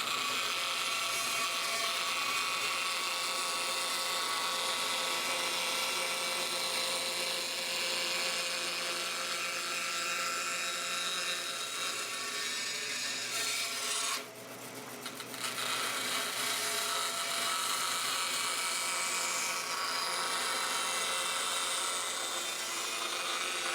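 A bandsaw cuts a slot in a plate for a segmented bowl press, giving a steady high whining buzz that holds for the whole stretch with a brief dip partway through, and no talk.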